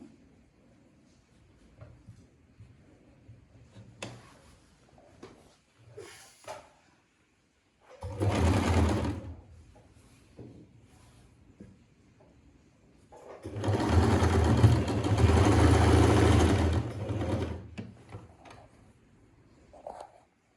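Sewing machine stitching pleats into the back of a salwar, running in two loud bursts, one short and one longer, between quiet handling noises and pauses.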